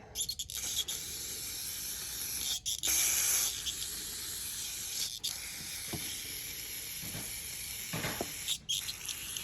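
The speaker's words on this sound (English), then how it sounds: "So I'm going to spray this a little bit." Short hissing bursts of cleaner sprayed onto a carbon-fouled 12 valve Cummins diesel piston, a few close spritzes with pauses between them and no talking.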